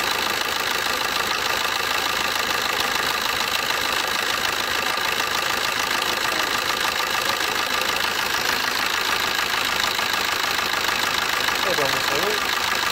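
A 2009 Opel Agila DTI diesel engine idles steadily nearby while warming up, a constant mechanical hum and light knocking that runs evenly throughout without revving.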